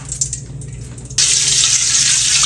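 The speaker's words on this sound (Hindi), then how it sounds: "इसमें हम हाफ कप ऑयल डाल देंगे।" Oil is poured into a karahi for Peshawari chicken: quiet handling at first, then a sudden loud, steady hissing pour that continues to the end, close up.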